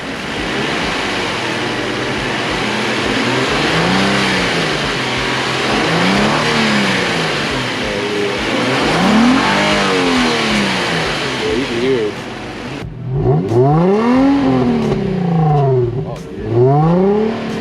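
A 2004 Infiniti G35 fitted with a Stillen Z tube revs repeatedly, its engine rising and falling in rhythmic vroom sweeps, loud and close, with a sharper burst of revs near the end.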